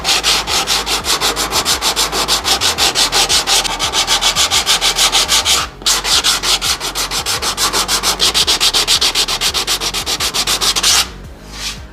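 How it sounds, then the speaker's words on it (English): Dent filler sanded by hand with 80 grit sandpaper, a loud, close, rapid back-and-forth rasping in steady strokes, with two brief pauses and no voices. "I'm gonna take our 80 grit sandpaper and we are gonna form it now"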